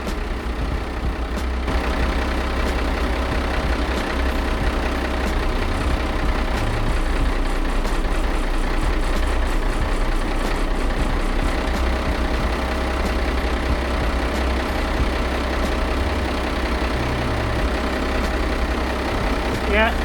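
A boat's engine idles steadily and fairly loud after injector cleaner is added, a continuous low rumble with a constant tone that runs unbroken for about twenty seconds.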